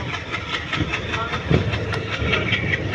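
A train on the Madurai to Rameshwaram line runs along the tracks, with steady rhythmic clickety-clack of wheels over rail joints and a continuous rumble heard close and loud from on board.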